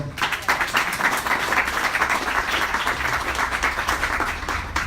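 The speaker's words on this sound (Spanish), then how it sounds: "Aquí los dejo con Alina, un fuerte aplauso." Loud, dense audience applause fills a conference hall in Oaxaca, Mexico, as a speaker on the future of advertising is welcomed, steady clapping continuing for several seconds.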